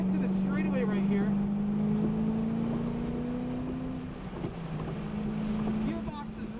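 A 2010 Chevrolet Corvette ZR1 driven on the Arizona Motorsports track drones through a long rising engine pull, dips at a gearshift and climbs again, all under heavy wind buffeting on the microphone.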